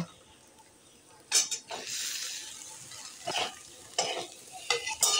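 A spoon stirring ground spices in a hot frying pan for Bengali singara filling, with steady sizzling under repeated scraping strokes against the pan, close and fairly loud, no talking.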